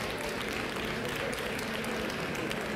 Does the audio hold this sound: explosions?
no